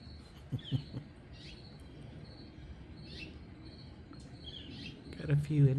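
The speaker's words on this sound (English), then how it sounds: "Got a few interesting other bird chirps here." Several faint bird chirps sound outdoors, short high calls scattered through a quiet background, with brief rustling and a louder moment near the end.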